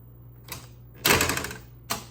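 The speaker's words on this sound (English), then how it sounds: "oh cool, it like automatically ejects when you turn it on" A 1978 Sony Betamax SLP-300 industrial player ejecting on power-up: a short click, then a loud mechanical clunk and whir lasting about half a second, and a final click, close up.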